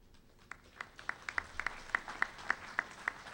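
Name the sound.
audience applause at a graduation ceremony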